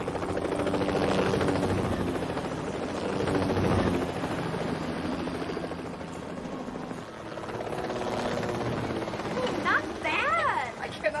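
A helicopter in flight drones continuously with a loud, throbbing rotor roar, and voices speak over the engine noise throughout.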